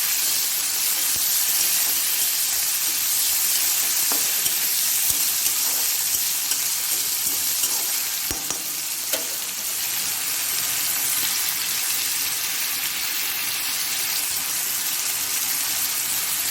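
Onions fry in a pan with a constant, dense sizzle and hiss that stays loud and even throughout, with only a few faint clicks and no talking.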